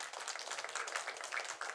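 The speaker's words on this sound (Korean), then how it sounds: "우리 요셉에게 잘했다 박수 한번 하겠습니다" A church congregation claps together during a sermon, a steady dense patter of many hands filling the space with no voices over it.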